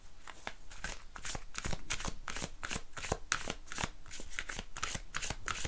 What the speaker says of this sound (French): je vais juste retirer une carte de l'archange Michael